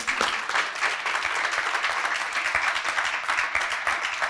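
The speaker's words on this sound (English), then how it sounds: "So give yourselves a round of applause" Brief burst of audience applause at an opioid task force summit, steady mid-level clapping from a room full of people throughout.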